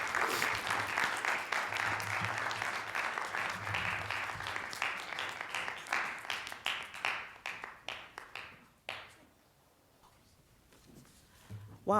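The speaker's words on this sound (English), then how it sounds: "If you could please just give her a big round of applause" Audience applause for a senior diversity officer taking the stage at a campus talk on race and racism, steady sustained clapping from a sizable crowd that thins into scattered claps and fades to near silence before she begins speaking.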